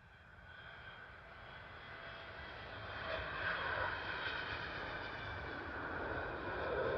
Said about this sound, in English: Arriving in now is a United Airlines Boeing 777 from Houston.